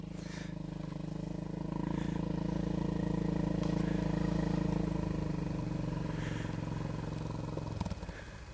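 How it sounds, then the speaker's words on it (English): A farmer's quad bike on a hillside track near Kettlewell, its engine rumbling in from the start, swelling to a steady close drone mid-way, then fading after it passes. "we're overtaken by a farmer on his quad bike"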